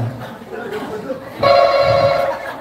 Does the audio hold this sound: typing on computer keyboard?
no